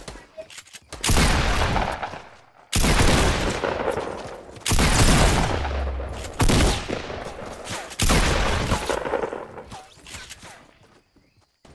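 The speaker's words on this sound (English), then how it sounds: "There's another person shooting at me." Bursts of rapid gunfire in a Fortnite match come in several dense, loud volleys separated by short pauses, with crackling impacts and brief gaps of near silence.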